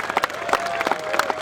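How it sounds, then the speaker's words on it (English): Crowd at a Help for Heroes charity sports day applauding the under-9s head coach, with brisk, lively clapping and scattered louder claps filling a short burst. "So a big round of applause for Rich,"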